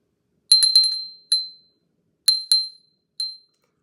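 A handmade ceramic Christmas bell decoration rings alone in a few clear, bright clinks: a quick cluster of strikes with ringing tails, a single ring, then two more close together and a last lighter ding.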